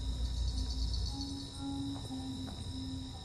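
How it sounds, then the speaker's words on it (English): Continuous high insect trilling and buzzing from Carolina ground crickets, bush katydids and tree crickets layered together, steady and moderately loud, with no voices. "We've got Carolina ground crickets, bush katydids, tree crickets, and a whole distinguished ensemble"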